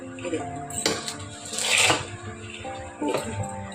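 Puffed rice being tossed and mixed by hand in a metal bowl for sweet puffed-rice balls, giving a few close scraping and clattering rustles with a louder burst in the middle.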